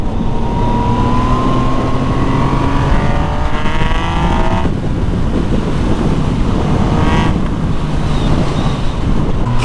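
A motorcycle fitted with a newly installed full exhaust line revs loudly and continuously close by, its throaty drone swelling and easing under steady wind buffeting, with no talking.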